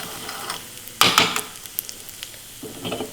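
Spoon stirring a quarter teaspoon of pickle powder into a sizzling dish in a home kitchen for a mini thali lunch, with a short scraping burst over a steady low sizzle and a few light clinks.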